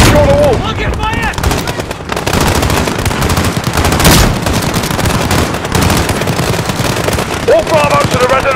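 Heavy gunfire fills a Call of Duty: Modern Warfare (2019) embassy battle, dense rapid automatic bursts and blasts running loud and continuous throughout, with shouted voices breaking through the shooting.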